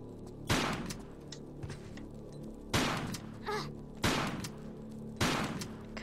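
Shotgun fired at a native enemy in a Tomb Raider level editor jungle ruins game: four sharp, loud blasts spaced a second or two apart, each with a short decaying tail over quiet ambience.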